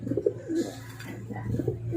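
Racing pigeons coo softly inside a loft, several low rolling calls overlapping close by in a steady murmur with no talking.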